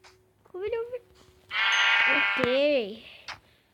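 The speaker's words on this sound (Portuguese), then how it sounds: "Ovelha." Sheep bleat in a video game, one short wavering bleat followed by a longer, louder drawn-out bleat, close and clear, with a brief click near the end.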